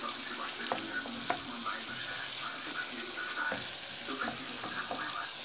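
Thin onion slices sizzling and frying in a pan while being stirred, a steady bright crackle with soft scraping strokes throughout, close and continuous.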